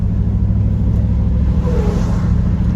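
A deep, throaty engine burble rumbles low and steady nearby, with a slight rise in revs partway through.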